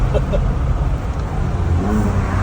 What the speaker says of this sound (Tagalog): Ang ating full exhaust. Sound check, full exhaust. HKS